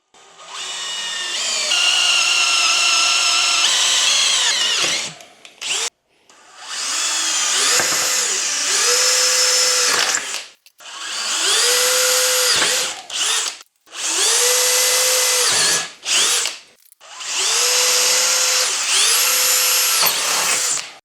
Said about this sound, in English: Now time to pre-drill all the holes.